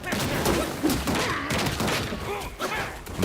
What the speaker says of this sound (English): What's exploding?